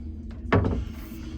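A shoe rack in the closet of a Carnival Celebration cruise ship cabin slides out and back in, giving a short wooden thunk and rattle that is loud and close, with no talk over it.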